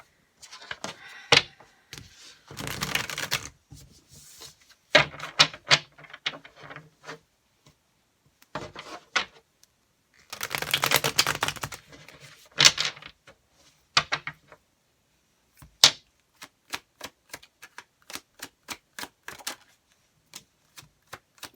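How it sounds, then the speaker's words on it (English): Tarot cards are gathered up and shuffled close by, giving brisk papery riffles and flicks in several bursts with sharp taps between them and quiet gaps, and no speech. "I'm actually being guided to put all the cards back."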